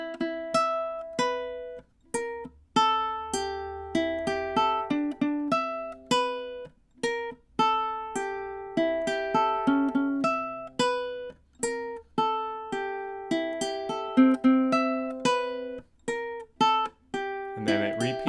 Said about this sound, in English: it should sound something like this